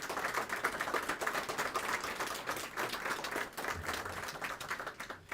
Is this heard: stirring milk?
no